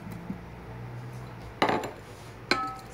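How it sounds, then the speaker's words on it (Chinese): Tomatoes tipped into the metal pot of a Joyoung electric cooker holding beef shank, giving two sharp clattering knocks and a brief rattle against the pot, fairly faint, with no talking. "再把番茄倒到锅里"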